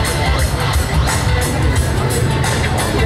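Audience clapping at the Autoexotica 2013 car show, a dense, steady wash of many hands applauding at close range for about three seconds, with crowd noise mixed in and no clear speech.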